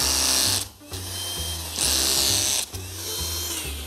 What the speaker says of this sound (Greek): Οπότε ερχόμαστε εδώ πέρα και τρυπάμε όσο θέλουμε.